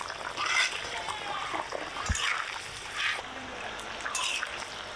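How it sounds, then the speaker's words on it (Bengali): Pieces of fried rui fish go into a boiling curry gravy with potatoes and peas, giving a steady bubbling simmer with soft wet splashes and a dull thud partway through. "ঝোল বলক এসে গেছে, এবার ভাজা মাছগুলো দিয়ে দিব।"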